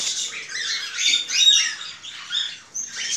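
A crowded aviary of cockatiels, rosellas, ring-necked parakeets and budgerigars fills the air with continuous overlapping shrill squawks and chatter, close and busy.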